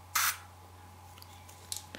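A sunscreen spray bottle with a twist cap, SPF 30, gives one short, sharp hiss of mist up close, followed by faint clicks and soft handling noises.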